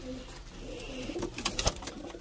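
Soft, low pigeon coos murmur close by inside a cage, with a few brief rustles and thumps toward the end.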